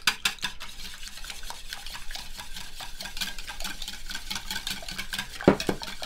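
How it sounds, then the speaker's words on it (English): Eggs whisked briskly in a bowl for a date, fig and walnut bread: rapid, rhythmic clinks and scrapes of the whisk against the bowl, close and clear, continuing steadily with one sharper knock near the end and no talking. "and then I'm just going to whisk those eggs"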